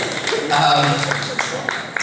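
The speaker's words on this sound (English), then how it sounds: "you can give a round of applause" An audience gives a round of applause at an awards event, with scattered hand claps mixed under a talking voice for a couple of seconds.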